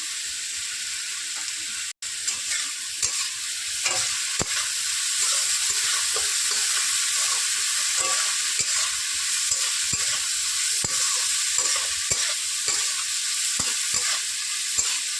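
Ghetkol paste with turmeric powder and salt sizzling in a pan, a loud continuous frying hiss broken by repeated scraping strokes of a spatula, close and steady with no talking.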